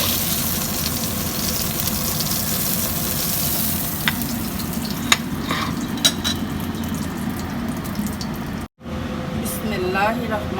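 Pieces of rohu fish fry lightly in oil for a ridge gourd and potato curry, a continuous close sizzle with a few utensil clinks, while a person talks over it; the sound cuts out briefly near the end.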